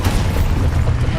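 An Expulso explosion spell in Hogwarts Legacy sounds as a loud, sustained low boom with rumbling bursts, filling the whole moment without a break.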